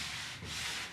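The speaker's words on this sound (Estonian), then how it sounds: "tuleb asuda puitu lihvima" Sandpaper rubbing steadily over a paint-stripped wooden window frame, a close, continuous coarse scratching hiss with no pause.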